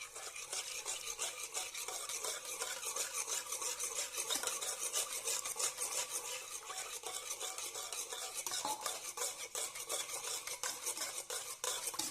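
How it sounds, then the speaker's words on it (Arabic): Pancake batter with milk stirred in a bowl, a continuous scraping, swishing whisk rhythm close up with fine rasping strokes and occasional utensil clinks against the bowl, no talking. "هكذا نحركوه سوا حتى يرجع لكم بهذا اللون"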